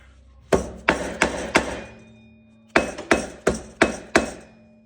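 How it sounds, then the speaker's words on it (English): A mallet taps a front wheel bearing into place on a 2003 Yamaha Blaster ATV: four sharp, close knocks, a short pause, then five more in an even rhythm, with no talking. "Maybe give it a couple taps with a mallet."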